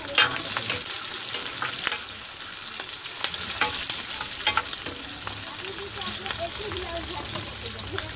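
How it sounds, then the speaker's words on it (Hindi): Chopped capsicum fries in a pan with curry leaves for a Mumbai-style dry cauliflower fry, a continuous close sizzle broken by irregular clacks and scrapes of a spoon stirring. "अब इसमें हम डालेंगे कटी हुई शिमला मिर्च"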